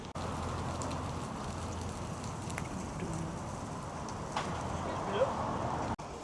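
Rain falls steadily at a football stadium before a Tamworth vs Yeovil Town National League match, a constant soft hiss and patter heard close by from a commentary gantry, with a few faint knocks.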